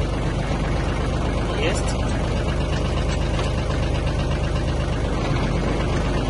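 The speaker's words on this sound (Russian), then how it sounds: "Повращаем фрезу." A Kubota KT20 mini tractor engine runs steadily with its rotary tiller turning, a loud continuous mechanical drone, while someone speaks briefly over it.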